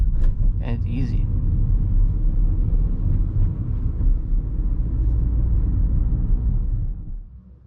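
A Hyundai i10 rolls over a speed bump in second gear at about 20 km/h, its steady low road rumble and engine drone filling the cabin, with a couple of brief knocks early on before the sound fades out.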